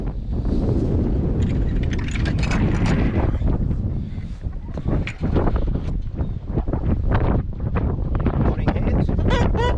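Strong wind on a farm roars and buffets the microphone continuously, with gusting rumbles and rattling bursts throughout, no other sounds standing out.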